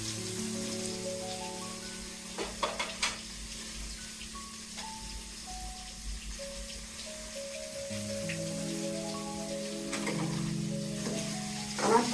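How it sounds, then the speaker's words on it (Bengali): Paneer fries in a pan with a soft, steady sizzle, set low under sustained melodic tones and a few sharp clinks. "আমার পনির ভাজা হয়ে গেছে"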